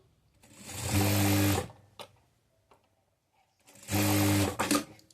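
A sewing machine stitches a blouse in two loud, whirring bursts of about a second each, separated by a quiet pause with a few faint clicks.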